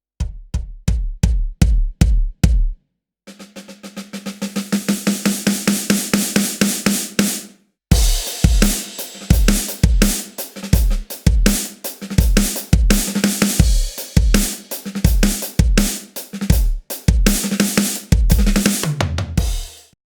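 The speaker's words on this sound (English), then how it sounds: "So the new kick and snare sound like this." A Roland TD-50 electronic drum kit with new layered kick and snare samples: punchy close kick and snare beats, first alone, then under a busy stretch of fast rolls and cymbal wash, then in a steady groove with fills.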